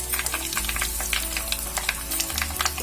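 Asafoetida dropped into hot oil for tempering, after dried red chillies have fried, while making a raw mango chutney: steady close sizzling and crackling with faint stirring, no voices.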